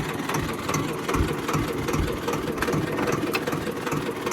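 A tractor engine runs steadily at close range with a throbbing, knocking idle, loud and continuous throughout, with no talk over it.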